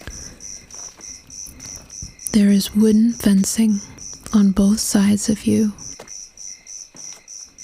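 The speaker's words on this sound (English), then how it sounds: "enjoying the quiet, the sounds of leaves rustling and crickets chirping" Crickets chirp in steady, rhythmic pulses along a quiet country road, a continuous soft trill running beneath a hushed, whispering voice that speaks through the middle of the scene.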